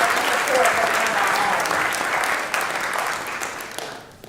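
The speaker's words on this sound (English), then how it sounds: "Let's just give yourself a round of applause for being here today" Crowd at an outdoor street-naming ceremony in Newport News gives a sustained round of applause, a thick steady clatter of many hands that holds strong and then slowly tapers off near the end.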